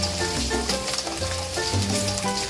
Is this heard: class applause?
no